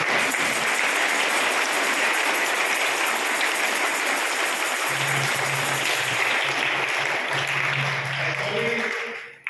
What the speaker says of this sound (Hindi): जोरदार ताली से उनका स्वागत करें।